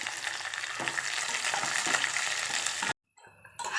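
Curry leaves crackle and sizzle loudly in hot oil for a Kerala mango curry, a dense continuous frying hiss that cuts out abruptly near the end, then briefly returns.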